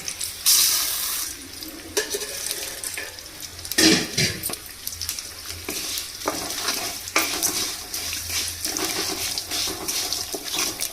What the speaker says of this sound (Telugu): అవి కొంచెం రెడ్ కలర్ వచ్చే వరకు వేపుకోవాలా